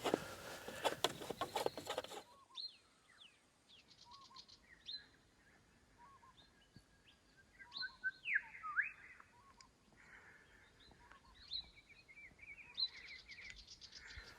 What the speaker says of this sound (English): Bird life's beautiful out here. So much bird life out here.